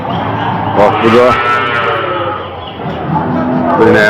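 A hornless dairy cow and her calf moo among other livestock at a busy animal market, with traders talking around them.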